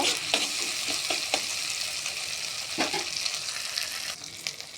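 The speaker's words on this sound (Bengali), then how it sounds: "তারপর দিয়ে দেবো আদা বাটা দিয়ে মশলার সাথে মিক্স করে নেব" Ginger paste is stirred into frying spices in a pan, giving a constant bright sizzle with intermittent spoon scrapes and taps against the pan.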